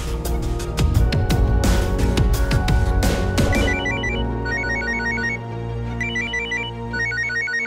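A phone call rings out with a repeating electronic ringtone, short bursts of beeping tones in a steady pattern, loud and alone after a brief stretch of music at the start.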